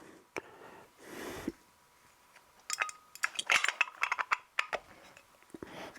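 Float bowl being fitted onto a KX250 motorcycle carburetor, with small metallic clinks and taps, a few scrapes and handling noises close up, clustered in a quick series toward the end.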